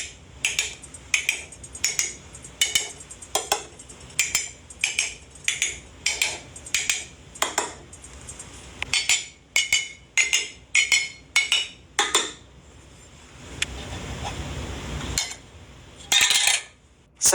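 Glass canning jars with lids are tapped to check their seals, a rhythmic series of bright clinks, about two per second, then a short stretch of soft hissing and a few final taps.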